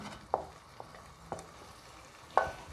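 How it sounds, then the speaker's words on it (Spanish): Fried leek mixture is tipped from a small frying pan into a pot on a stove, with a few sharp utensil clacks against the cookware over a faint background. "En esta ollita que tengo aquí en mi estufa, voy a agregar lo que freí en mi sartencito."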